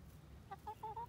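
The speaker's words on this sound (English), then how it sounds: "Come here, chicken." A chicken in a yard gives a short run of four or five quick, bright clucks, faint and close, against quiet background noise.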